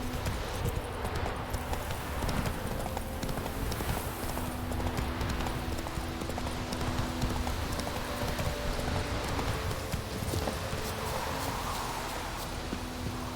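Roach, the horse in The Witcher 3, gallops in a fast, steady clip-clop of hooves, close and continuous, over a rushing outdoor ambience with rustling and a faint background hum.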